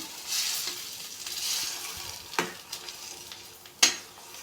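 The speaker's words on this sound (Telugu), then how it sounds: "సేమాలు వేసుకొని ఒకసారి కలుపుకోవాలి" Vermicelli is stirred in a hot pan for upma, a soft hissing sizzle swelling and fading with a few scrapes and a sharp clink of the spatula near the end, close and without speech.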